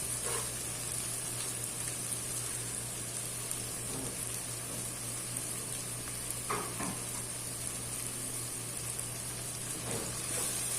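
Tomatoes, coriander and mint sautéing in a pan, a faint, steady sizzle with occasional light stirring clicks under a constant background hum.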